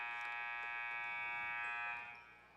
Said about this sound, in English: Buzzer sounds, no stop and play